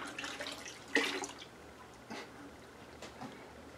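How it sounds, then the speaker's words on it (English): Home mead-making gear being rinsed in sanitizer, with soft splashes and water sloshing, one sharper splash early on and a couple of fainter rinsing bursts after it, close and fairly quiet, with no talking. "Rinse everything in your sanitizer"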